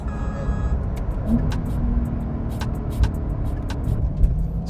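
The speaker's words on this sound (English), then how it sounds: "What if I go to Sport Plus? Ooh, instantly into 3rd gear. Let's go to 2nd gear." Porsche 911 Carrera 4S engine pulling hard in Sport Plus mode, a steady loud drone with rising pitch and quick gear changes, heard from inside the car with brief sharp clicks and no talking.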